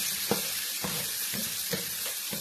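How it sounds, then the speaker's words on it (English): Garlic and meat sizzle steadily in a hot pan while vegetables are being cooked, with soft stirring scrapes breaking through the hiss about every half second. "I do the garlic first. It will tame the frying of this meat."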